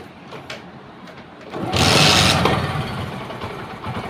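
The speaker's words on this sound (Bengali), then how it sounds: "দেখুন এবার গাড়িটাকে আমি স্টার্ট করছি" A Bajaj Pulsar 135 BS4 motorcycle engine cranks and catches with a loud burst, then settles into a steady idle close by.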